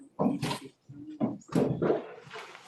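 A dog whimpers and yips in short, whiny bursts at a board meeting, fairly close and mixed with voices speaking at the same time.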